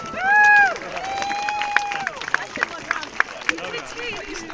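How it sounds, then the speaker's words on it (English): Spectators at a Roman and medieval re-enactment festival in Colchester applaud and cheer outdoors, sustained clapping with whistles and shouts, crowd chatter running underneath. "Give them a round of applause."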